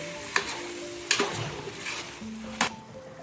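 Vegetable biryani mixture with coriander powder sizzles in a pan while a spoon stirs it, with three sharp scrapes or knocks against the pan over a steady low frying hiss.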